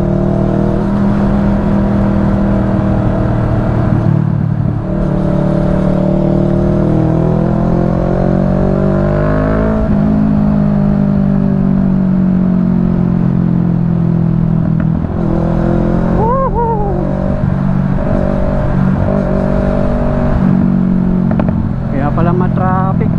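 Dense road traffic of cars and motorcycles jams a street, a steady loud rumble of idling and revving engines with passing vehicles and rising whines, continuous throughout.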